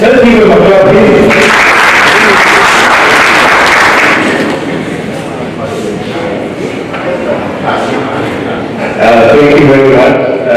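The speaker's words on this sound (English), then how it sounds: "Let's give you a clap, please" Audience claps at the FESTAC Africa Festival 2024, a burst of clapping that rises and then thins out, with someone talking over and after it.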